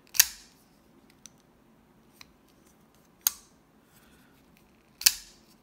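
A Bestech Sledgehammer folding knife on ball bearings flicks open and shut, giving a few sharp, crisp metallic clicks spaced about two seconds apart against near silence.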